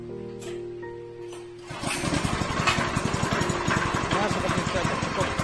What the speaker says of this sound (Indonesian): langsung bisa dihidupkan mesin